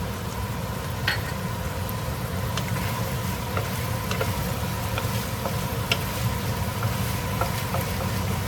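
Chopped scallion stirred into a pan of braised tofu, a steady soft sizzle with light intermittent scrapes and clicks of stirring, close and alone.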